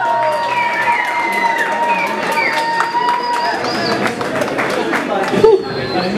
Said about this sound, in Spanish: Oigan el fuerte aplauso que se escucha si les gustó para los muchachos.